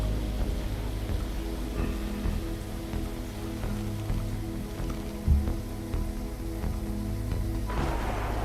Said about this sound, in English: Oops, raining in space.